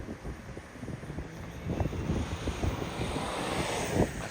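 A 2023 Ford Ranger Platinum ute accelerates hard from a brake-boosted launch, its engine a deep, swelling roar under heavy wind and road rush recorded from inside the cabin, steadily rising in loudness.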